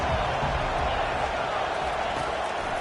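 Dense stadium crowd roar building behind the defense on a third down during a college football game between Washington and Tennessee, a loud continuous wash of cheering noise with no distinct voices.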